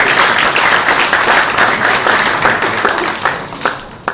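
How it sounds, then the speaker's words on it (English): Loud, close audience applause for Dr. Mahathir at a gathering in Malaysia, dense clapping that thins toward the end with a few distinct late claps. "one more applause"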